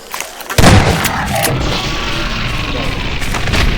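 Gunfire in the video game Garry's Mod: a loud, close booming shot followed by sustained rumbling blasts and echoing report, with no talk over it.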